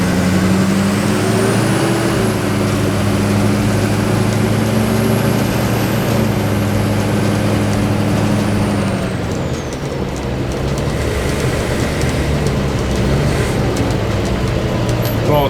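A Humvee drives around outside with a loud, steady engine drone close by, holding one pitch and then dropping slightly as it eases off and picks up again. No talk is heard.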